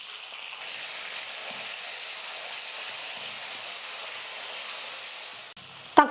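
Chopped tomatoes frying in a pan with onions and curry leaves for sambar, a steady soft sizzle that holds evenly for several seconds before a couple of sharp clatters near the end.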